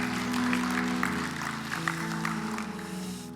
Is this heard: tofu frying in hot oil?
no